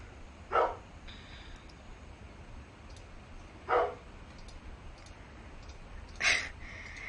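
Three sharp dog barks ring out in the background, spaced a few seconds apart, faint and distant over a quiet hum.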